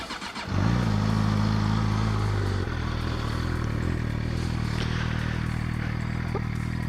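A KTM RC 125cc motorcycle engine starts on the button and settles into a steady, loud idle close by, a continuous buzzing rumble running alone after the brief starter whine.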